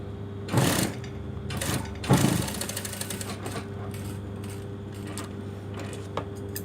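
A sewing machine runs in short bursts as it stitches a seam beside a plastic or nylon zipper on a garment under repair, its rapid needle clatter loud and close with quiet pauses between runs.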